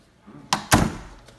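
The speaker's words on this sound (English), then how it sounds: "Let me shut the door." A game room door in a house is pushed shut, giving a soft first knock followed moments later by a louder, close wooden thunk that fades out quickly.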